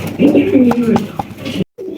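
Large pigeons coo close by in low, rolling throaty calls at a pigeon sale, with a brief gap near the end.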